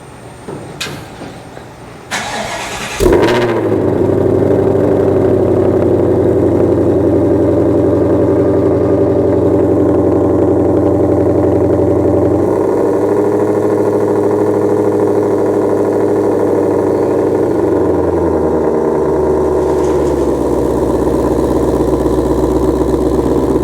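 A 2020 Ford Mustang GT500 fires up with a sharp burst after a few seconds of quiet handling noises, then settles into a loud, steady idle. The idle stays deep and continuous, with its note dropping slightly partway through and again near the end.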